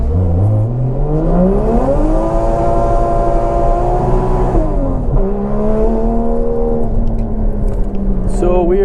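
A Toyota JZX100 engine, newly tuned, revs up and holds high, steady revs, dips briefly, then climbs again, loud and close throughout.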